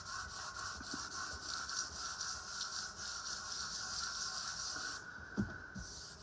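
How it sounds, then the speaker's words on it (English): Continuous abrasive rubbing of a sanding block across the body of a Coban LP711 kit guitar, a steady hissing scrape with a brief pause near the end before the strokes resume. "I should make sure that the effort I'm putting into sanding around the edges is the same as the effort that goes"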